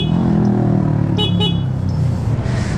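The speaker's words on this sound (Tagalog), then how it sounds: "paano natin busina kung gano'n anong tunog." A Zontes 400M, a 400cc motorcycle, gives two short horn beeps close by over the steady rumble of its running engine.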